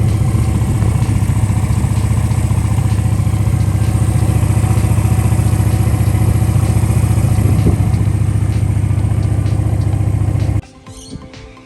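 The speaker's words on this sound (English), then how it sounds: "Don't want to over rev it, but yeah, sounds pretty good for a 250" A 250cc cruiser motorcycle engine, a Virago 250, idles loudly and steadily up close outdoors with a slight rev around the middle, then cuts off abruptly near the end, leaving faint wind and rustling.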